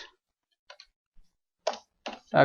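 Keys on a computer keyboard tap out a search, a few sparse, isolated clicks followed by a quicker burst of close keystrokes in an otherwise quiet room.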